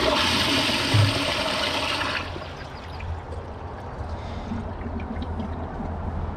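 A Kohler Highline Pressure Lite 1.6-gallon toilet flushes with a loud, close rush of water that cuts off after about two seconds, then gives way to quieter gurgling and trickling as the bowl refills.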